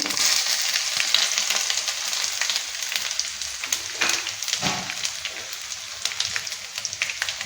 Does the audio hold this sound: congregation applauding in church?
no